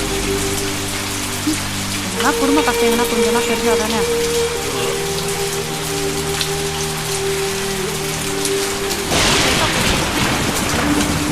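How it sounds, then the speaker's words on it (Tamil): Heavy rain pours steadily in a Tamil movie scene, a dense continuous hiss throughout with low rumbling beneath, while people speak over it. "ஒரே மின்னலும் மழையுமா இருக்கு."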